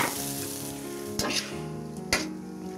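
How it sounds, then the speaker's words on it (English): Loud sizzling and crackling from a hot pan, with two sharp bursts of hissing as vinegar hits the surface to deglaze it. "now comes the deglazing action with vinegar"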